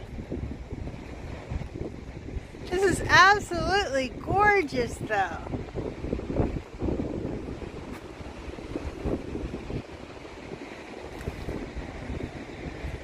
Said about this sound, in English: It's getting a little bit windy, so I had to put my hood on.